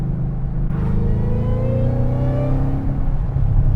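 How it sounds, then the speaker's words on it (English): A slammed widebody Ford Mustang 5.0 GT with a supercharger holds a loud, close, steady rev, its deep engine rumble carrying a rising whine across the clip. "Nothing like the whine of a supercharger."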